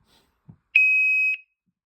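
Safe Guard II firefighter distress alarm sounding a test beep: one loud, piercing high-pitched tone held steady for about half a second, preceded by a soft click, in a quiet indoor room.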